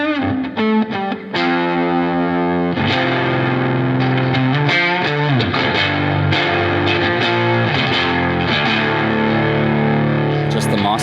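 Electric guitar played through the percolator side of a distortion pedal on its own, a thick, loud fuzzy tone with sustained chords and riffs ringing out continuously.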